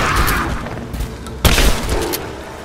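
Gunfire in the video game Rise of the Tomb Raider: a couple of sharp, loud shots with booming tails over a rainy ambient background, fairly close and punchy.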